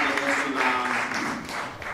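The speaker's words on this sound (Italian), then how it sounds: "io voglio fare un applauso a tutti voi che partecipate, ai cori" Applause from an audience for choirs at a Good Friday gathering in Alatri fills the room in a short steady burst, mixed with voices.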